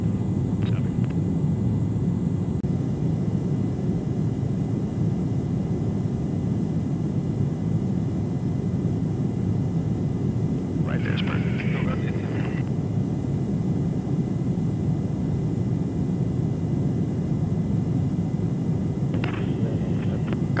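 Egyptian Air Force F-16 jets and a tanker during aerial refueling over Exercise Bright Star 23 produce a constant loud low engine roar inside the aircraft, with brief crackles of radio-like sound over it.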